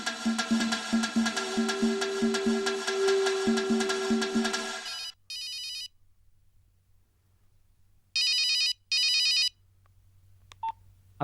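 A telephone rings indoors: a loud, sustained melodic ringtone for several seconds, then short repeated ring bursts separated by quiet gaps.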